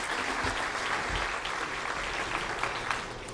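Stadium crowd at a darts match cheering and applauding steadily to encourage a struggling player, a loud continuous roar of claps and voices throughout.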